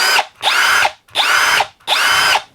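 Hercules brushless hammer drill, item 59419, spinning at speed 1 in four short, evenly spaced bursts, each ramping up and winding down, close and loud with no talking.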